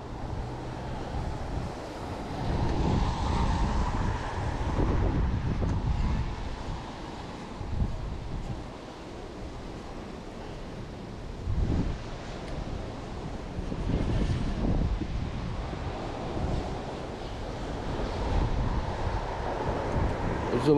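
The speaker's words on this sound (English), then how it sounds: "It's a little bit windy, guys." Strong wind buffets the microphone outdoors near a police operations headquarters, a continuous loud roaring rush that swells and eases in gusts throughout.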